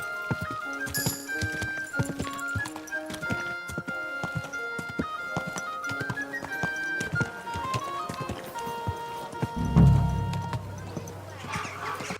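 Horse hooves clip-clop steadily in Kingdom Come Deliverance 2, rhythmic and close, with a neigh near the end, over game music and ambience.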